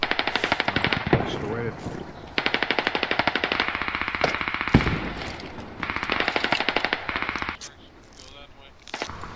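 Rapid bursts of machine gun fire in a squad-based shooter game set in Mutaha, several long loud rattling volleys with short gaps between, and a voice speaking briefly over the shooting.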